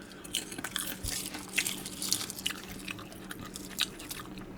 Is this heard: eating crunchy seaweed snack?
yes